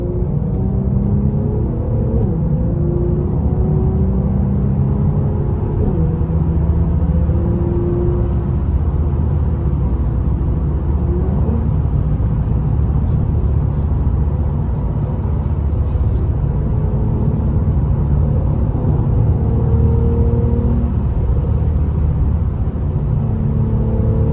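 A steady, low engine and exhaust drone from a stock 2018 Mercedes-Benz E43 AMG cruising along, loud and continuous with faint shifting tones and no voices.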